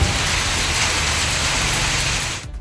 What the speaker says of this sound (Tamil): புதுக்கோட்டை நகர் பகுதிகளில் கருமேகங்கள் சூழ்ந்து பலத்த காற்றுடன் மழை பெய்தது